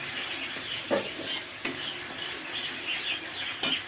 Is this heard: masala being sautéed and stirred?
yes